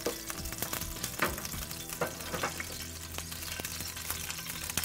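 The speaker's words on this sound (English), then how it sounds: "It will sizzle because there is a little bit of liquid there." Prime rib fat and juices sizzle and crackle in a roasting pan, a close, quiet, continuous frying hiss with scattered pops and stirring clicks.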